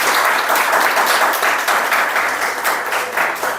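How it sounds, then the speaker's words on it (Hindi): A classroom of students claps together for a classmate in a math class, dense, loud, continuous applause close by with no pause. "बच्चे के लिए ताली बजाओ एक बार।"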